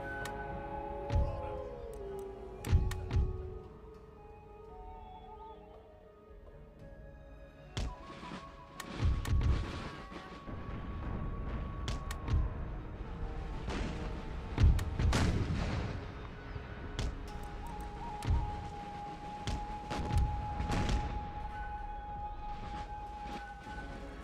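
Artillery batteries fire across a Napoleonic-era battlefield in Empire: Total War, with repeated deep booms and crackling volleys scattered over the scene amid distant battle noise and faint sustained tones.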